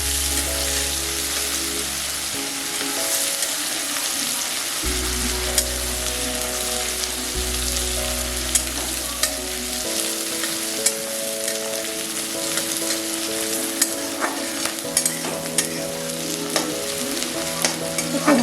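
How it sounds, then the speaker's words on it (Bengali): Onions tempered with panch phoron fry in hot oil for a lentil fritter curry, a dense, constant sizzle crackling up close, broken by scraping stir strokes and small clicks of a spatula against the pan. "পেঁয়াজগুলো একটু ভাজা ভাজা হতে দেবো।"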